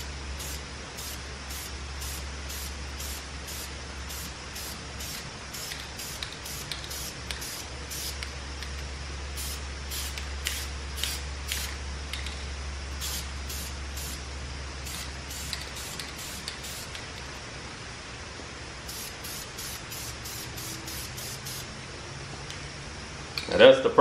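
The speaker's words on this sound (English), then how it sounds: "I try to move around the caliper so that I can touch as many surfaces as possible" A spray paint can coats a brake caliper in a long series of short, sharp hissing bursts, grouped in clusters over a low steady hum, with no one speaking.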